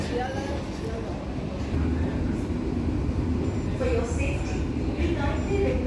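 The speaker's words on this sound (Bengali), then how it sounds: "বনগা পর্যন্ত সিঙ্গেল লাইন তাতেই একশো তিন একশো চারে ট্রেন চলছে" A Ranaghat-Bangaon-Sealdah AC local train runs on a single-line stretch, giving a loud, unbroken rumble and rattle that builds slightly as it rolls along.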